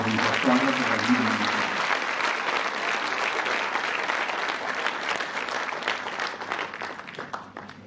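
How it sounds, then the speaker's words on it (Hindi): A hall audience at an International Women's Day program at a medical sciences university welcomes the chief guest with loud, dense applause that holds steady for the whole stretch and tapers only slightly at the end, with a voice faintly underneath at the start. "मैं चाहता हूं कि आप सब लोग जोरदार तालियां बजाकर उनका स्वागत करें।"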